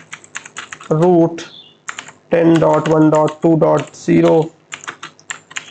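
Close, loud bursts of computer keyboard typing as network routing commands are entered, with someone speaking between and over the keystrokes.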